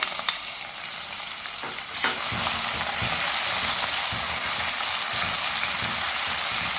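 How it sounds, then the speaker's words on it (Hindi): Tomatoes drop into onion, ginger and garlic paste already frying in a pan, and the loud, steady sizzle suddenly grows stronger, with faint stirring scrapes underneath. "प्याज जिंजर गार्लिक पेस्ट हमारा अच्छे से फ्राई हो चुका हुआ है। अब इसमें टमाटर ऐड करेंगे।"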